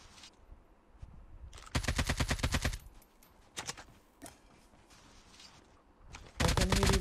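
Machine gun fire in Call of Duty Mobile, loud rapid bursts of about a second each, separated by quieter gaps with scattered single shots, ending on another sustained burst.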